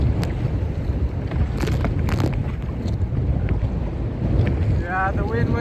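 Steady wind buffets the microphone while kayaking on open water in Southern Ontario, a constant rumbling roar with water splashing around the boat.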